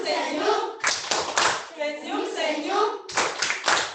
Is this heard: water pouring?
no